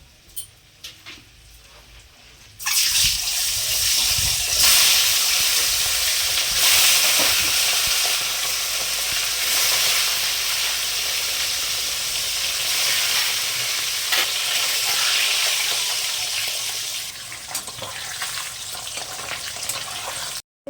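Eggs coated in salt and turmeric drop into hot mustard oil and fry with a loud, sustained sizzle and crackle, beginning suddenly after a few quiet seconds and running on unbroken.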